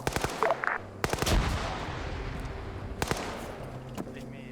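Rapid bursts of game gunfire, sharp repeated shots in quick volleys, fairly loud and close.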